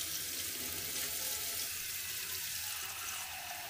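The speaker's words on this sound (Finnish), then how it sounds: "Elikkä mä otan täältä tämmöstä ihan jääkylmää vettä." Ice-cold tap water runs steadily into a kitchen vessel while a traditional Kainuu-style meat soup thickener is prepared; a constant, close splashing rush with no talking.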